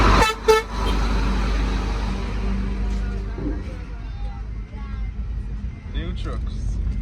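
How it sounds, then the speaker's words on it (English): New garbage trucks rumble past on a busy street, a loud steady low engine roar with a short horn toot near the start and voices talking over the traffic. "New garbage trucks."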